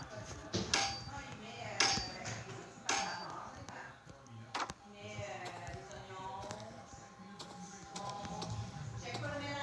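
Hammer smashing objects in the video game Hello Neighbor, a series of sharp clattering impacts and breaking knocks at irregular intervals, fairly quiet, followed by a steadier rumbling stretch.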